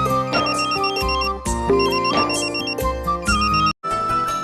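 Mobile phone ringtone playing loud and close, a repeating melodic electronic chime in short bursts that cuts off near the end, heard alone.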